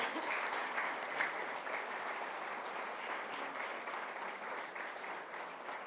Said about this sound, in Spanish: Vamos a darles un fuerte aplauso por su servicio